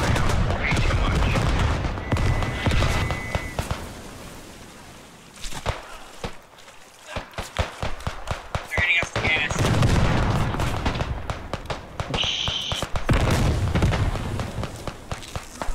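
Artillery shells pound a field gun position during a Beyond The Wire match at Poelcappelle, heavy booms and bursts of gunfire rolling in repeated waves with quieter gaps, footsteps and scattered talk mixed in.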